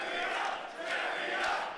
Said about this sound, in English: Hear the chants.